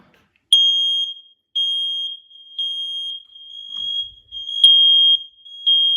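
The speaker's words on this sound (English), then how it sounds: "hold the test button until you hear all the other smoke detectors in your suite also going off" Several interconnected home smoke alarms shriek in piercing, overlapping beeps during a test, a continuous high electronic tone with repeated pulses sounding loud and close.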